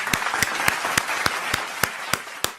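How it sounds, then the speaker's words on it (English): A small group or single person claps in a steady, even rhythm for Matt Scott, about nine sharp, close claps over a soft background hiss. "We gotta give Matt Scott a round of applause for that."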